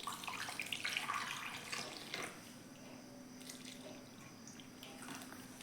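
Tap water runs steadily over five raw mangoes being rinsed clean in a kitchen sink, a close, splashing, bubbling flow that is busiest at first and then settles into an even patter for the rest.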